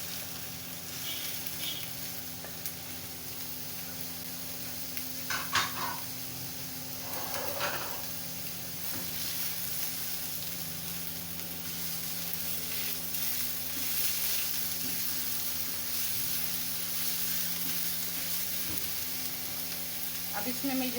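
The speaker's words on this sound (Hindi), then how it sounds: "अब इनको मैं 5 मिनट के लिए भूनूंगी, बहुत ज़्यादा ब्राउन नहीं मैंने इसे करना।" Onions and chicken frying in a pan for bread samosa filling, a steady sizzle that runs throughout, with occasional scrapes and clinks of stirring.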